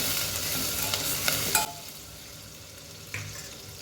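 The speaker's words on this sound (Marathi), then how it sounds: "कांदा लसूण आपल्याला चांगला लालसर होईपर्यंत परतून घ्यायचा आहे।" Onion and garlic fry hard in a pan, a loud close sizzle that drops abruptly partway through, with a brief stirring scrape near the end.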